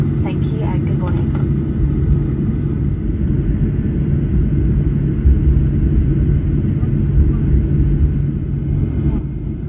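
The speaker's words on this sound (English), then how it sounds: "Here's a Vietnam Airlines A350 arriving from Ho Chi Minh City" A Vietnam Airlines Airbus A350 airliner arriving from Ho Chi Minh City at Melbourne airport, heard as a steady, fairly loud low jet rumble and roar that holds evenly throughout, with a voice talking over it.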